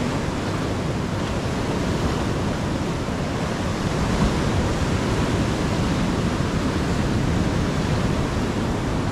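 Surf at Sira-an beach in Anini-y, Antique, Philippines, a steady, loud broadband roar of breaking waves washing continuously without pause, no voices.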